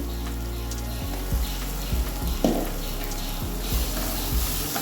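Sambar powder and chili powder sizzle in hot oil in a pan, a steady soft frying hiss with a few low knocks of stirring, no talking.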